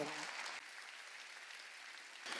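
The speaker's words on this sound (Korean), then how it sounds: "박수." A church congregation claps briefly during a Korean sermon, a quiet, hissy burst of applause heard from a distance that swells slightly at the end, with a voice faintly present at the very start.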